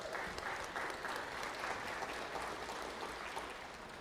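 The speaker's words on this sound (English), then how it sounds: "Can we have a little round of applause for that great little ultra short?" Audience applause at a keynote on storytelling, sustained and evenly textured, moderately distant and soft, with no speech over it.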